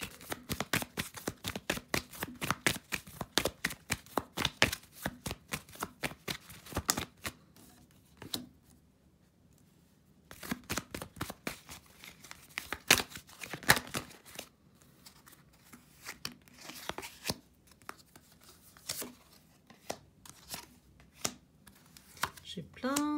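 Playing cards shuffled repeatedly, crisp rapid riffling bursts in clusters with short pauses between, close and fairly loud, alone without talk.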